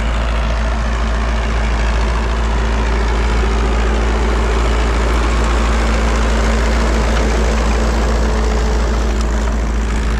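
A pull-started tractor engine runs steadily at a loud, even idle, its deep continuous drone unchanging throughout with no voices.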